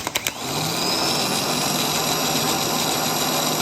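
A removed starter motor gives a few quick clicks, then spins up into a loud, continuous growly whine that holds steady and close.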